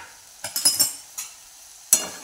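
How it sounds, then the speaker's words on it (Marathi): A lid comes off a pan of hadga flower vegetable cooking on a low gas flame: a few quick metallic clinks and rattles, a pause, then one sharp clink over a faint sizzle. No one speaks. "झाकण काढून पाहूया"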